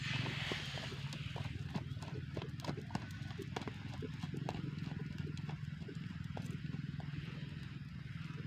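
A racehorse trains for a traditional Gayo horse race, its hooves clip-clopping in a quick, steady rhythm at moderate distance over a constant low background rumble.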